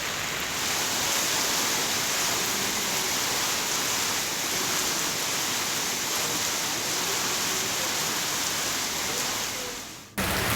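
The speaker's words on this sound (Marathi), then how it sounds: "शहरातील अनेक भागात मुसळधार पाऊस सुरू आहे" Heavy rain pours steadily over the city, a dense, even hiss that holds for about ten seconds before a brief dip and a cut at the end.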